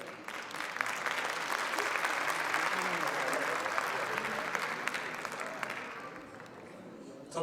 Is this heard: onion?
no